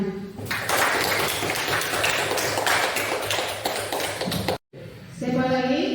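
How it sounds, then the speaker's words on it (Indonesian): Classroom applause from students, dense irregular clapping filling about four and a half seconds before cutting off abruptly, followed by a brief spoken voice. "Oke, berikan tepuk tangan."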